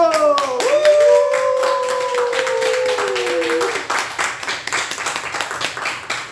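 Group clapping at a laughter therapy session, opening under a sustained sung or musical tone, then turning into rhythmic, evenly spaced claps that carry on alone toward the end.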